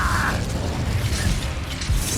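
An Incendio fire spell is cast in Hogwarts Legacy, a loud fiery whoosh and rumble with a rushing burst at the start and a brief pop near the end.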